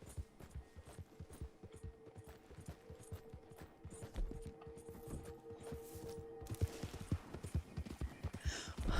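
Horse hooves clip-clop in a steady rhythmic gait in the video game Red Dead Online, close and moderately loud, with some mechanical creaks and a brighter noisy burst toward the end.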